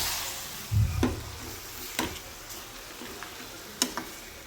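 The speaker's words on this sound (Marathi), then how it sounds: "अशा पद्धतीने सर्व भाजी टाकून आणि परतून घेऊया." Green chickpea leaves are sautéed in a pan, giving a soft steady sizzle. A few sharp spatula taps and scrapes against the pan are heard, with one low thump near the start.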